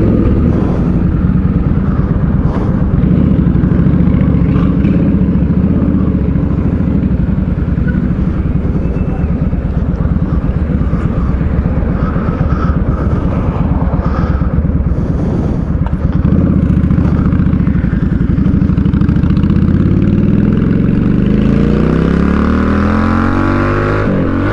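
Honda Shadow 600 VLX motorcycle engine droning loud and steady throughout a ride, with a missed gear shift letting the revs rise and shift near the end, wind noise mixed in.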